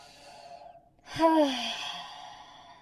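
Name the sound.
noisy breath exercise in prenatal yoga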